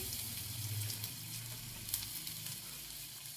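Finely chopped carrots sizzle softly in hot oil in a pan for pasta, a faint, even crackling hiss with a few light clicks, close but quiet and with no talk.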